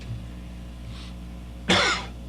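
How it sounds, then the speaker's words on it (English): One short cough bursts out near the microphone during a wrestling podcast, over a steady low studio hum, with quiet moments before it. "It was a cough."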